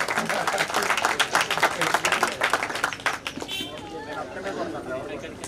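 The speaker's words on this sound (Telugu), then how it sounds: "క్లాప్స్ కొట్టండి రా బాబు" A crowd claps briskly at a school reunion of a 2007-08 batch for their headmaster and teachers. The clapping runs for about three seconds and then fades into crowd chatter and talk.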